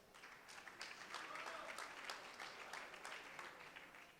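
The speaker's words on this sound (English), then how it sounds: "Please give a round of applause for Widow Games" Audience applause at a startup pitch event, a moderate, even run of clapping with a few distinct sharp claps, held at a distance and fairly quiet.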